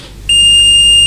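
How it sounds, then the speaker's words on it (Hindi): A multimeter's continuity buzzer sounds a steady, loud, high-pitched tone during an MCB short-circuit test at home, starting abruptly and holding unbroken to the end over a faint background hum. "मल्टीमीटर पर जो बाजार होता है ना वो बीप का आवाज़ सुनाई देगा आपको।"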